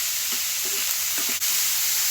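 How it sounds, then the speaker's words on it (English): A few soft scraping strokes of stirring in a pan over a constant loud sizzle, ending with one sharp clink. "Give it a quick stir."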